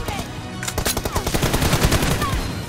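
Rapid bursts of hip-fire gunfire from a mobile shooter game in a one-versus-one team deathmatch, a loud, fast string of close shots with a few short gaps.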